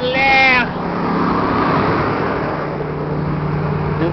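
A GMC V8 gas truck engine idles steadily with a broad, continuous rumble after a brief whine at the start, loud and close throughout.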